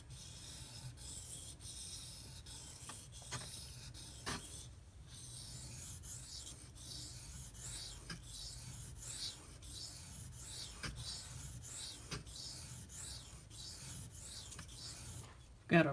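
An S90V steel knife is drawn across a King whetstone with light hand pressure, giving a soft, even rasping scrape in steady repeated strokes, faint and close, with a small knock at the end.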